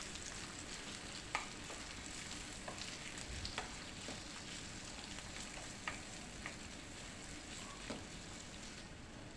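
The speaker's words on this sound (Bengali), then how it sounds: "পেঁয়াজটাকে একটুখানি নাড়াচাড়া করে নেব।" Chopped onion frying in oil with cumin, stirred now and then with a spatula; a soft, steady sizzle broken by occasional clicks and scrapes, fairly quiet and heard alone.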